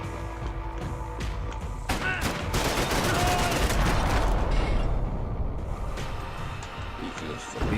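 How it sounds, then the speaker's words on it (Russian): Bursts of rapid gunfire in the video game Max Payne 3 crackle and rattle through the scene, swelling into a dense volley midway, with sharp individual shots at the start and end. "А вот стоит, не слышит стрельбы?"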